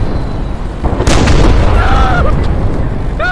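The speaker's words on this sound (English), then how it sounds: "Now there's a bomb." A loud, close bomb explosion in the VR shooter Pavlov Shack, one sharp boom with a rumbling tail, followed by brief whistling game tones.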